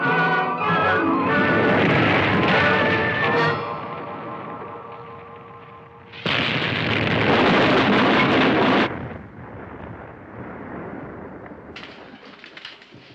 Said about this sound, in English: Those chunks of ice are coming right at us.